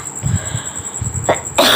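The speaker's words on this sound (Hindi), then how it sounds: "मुझे बीच बीच में खांसी आने लगी" A woman coughs several times in quick, close bursts, then clears her throat more sharply at the end, with a faint steady whine in the background.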